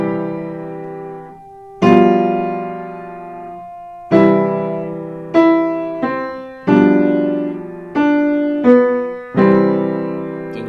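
Piano plays Burlesque with chords in the left hand. Full chords are struck one at a time at a slow, even pace, each ringing out and decaying before the next, close and clear with no talking.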